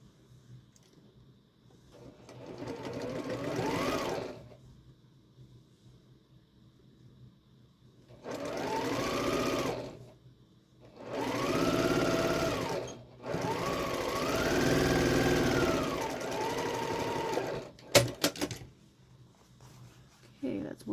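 A sewing machine stitches quilt block pieces in several bursts of a few seconds each, separated by quiet pauses, with faint handling sounds between runs.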